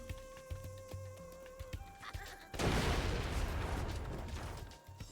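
A single loud cannon blast from the Spyro Reignited game booms out midway, its rumbling roar decaying over a couple of seconds after lighter clicks and tones in the game's background.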